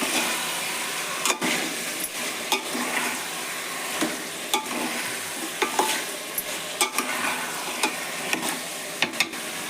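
Chicken gravy ingredients fry in oil in a pan, giving a steady, close sizzle broken by repeated sharp clinks and scrapes of stirring at an uneven rhythm.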